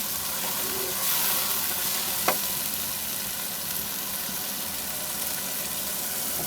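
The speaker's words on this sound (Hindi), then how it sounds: "पाँच मिनट तक हमने मसाले को अच्छी तरह भून लिया है" Masala sizzles and fries in a pan while cooking keema, a loud, continuous crackling hiss heard close up with a brief clink partway through and no talking.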